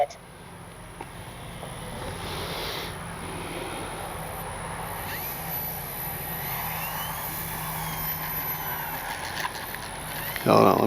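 A small Arrows P-51D Mustang RC model plane with an 850 mm wingspan flies on its maiden flight, its electric motor a faint, distant whine rising and falling against open-air background, ending with a brief louder burst nearby.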